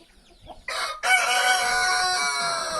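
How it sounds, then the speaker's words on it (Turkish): A light Brahma rooster crows loudly and close by, one long strained call after a brief clucking start. "light brahma horozumuz"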